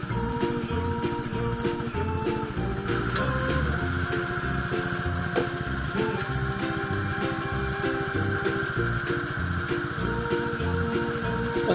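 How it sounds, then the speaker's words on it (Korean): An Asia walking tractor (cultivator) engine runs steadily after cylinder reboring, a close, loud, even mechanical chugging with a constant hum and rattle throughout, with no talk over it. "시동도 잘 되고 보링 작업 무사히 잘 했습니다."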